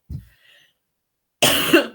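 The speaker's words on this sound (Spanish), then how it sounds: "sigo con la tos" A single harsh cough bursts out close by after a brief murmur, loud and rough, lasting about half a second.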